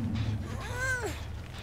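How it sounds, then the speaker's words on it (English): A single kitten meow, rising then falling in a thin, drawn-out cry close by, heard alone against a faint low background hum. "My little kitten."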